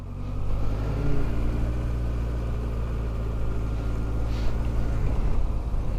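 A Kawasaki Versys 1000 motorcycle, its engine taken from the Ninja 1000, pulls steadily in first gear, a continuous loud engine drone mixed with wind rush, with no talking.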